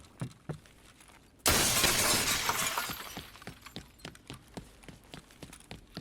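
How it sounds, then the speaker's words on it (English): Glass office window smashed in the game Escape from Tarkov on the Labs map: a sudden loud shattering crash, followed by falling shards and a string of sharp clacking footsteps nearby. "So that's why you'll hear people smashing through these office windows."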